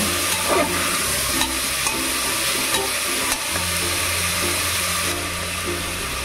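Potatoes frying with spices in a pan, a steady loud sizzle with scraping and stirring strokes throughout, no talking.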